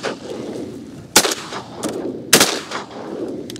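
Shotguns fire at ducks on a public-land hunt in south Louisiana, two sharp loud blasts about a second apart with fainter shots between and after, outdoors with no talk over them.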